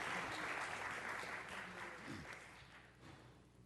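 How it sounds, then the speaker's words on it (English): Applause from the audience in a city council chamber during a meeting, a steady wash of clapping heard at a distance and fairly quiet, tapering slightly over a few seconds. "let's give them another round of applause"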